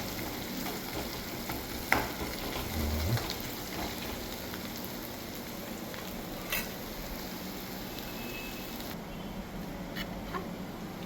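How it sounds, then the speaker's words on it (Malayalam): Onions softening as they fry in a pan, a steady sizzling crackle with occasional spoon scrapes and clinks from stirring, moderately close, no talking. "ഉള്ളി ഒരുവിധം വാടിയിട്ടുണ്ട്. ഇത്തിരി കൂടി ഒന്ന് മൂത്തോട്ടെ"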